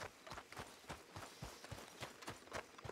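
Horse hooves clip-clop in a steady galloping rhythm in Red Dead Redemption 2, fairly quiet and drawing closer, with no talking.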